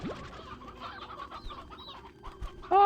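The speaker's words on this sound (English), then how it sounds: "I'll distribute out those chickens." Chickens in the game Slime Rancher 2 cluck softly in a scattered, busy patter of short calls against quiet farm ambience, ending with a sharper, brighter squawk.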